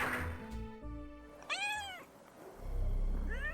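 A person imitates a cat's meow, making a few drawn-out, wavering mewing calls at moderate volume over quiet background hum, with a low rumble toward the end.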